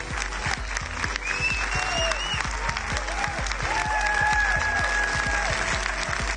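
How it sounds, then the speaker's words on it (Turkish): Applause fills a gala hall as actors make their entrance at a film premiere, a steady dense clapping from a crowd that runs throughout, with whistles and cheers rising above it. "Oyuncular galanın yapıldığı salona alkışlarla geliyor"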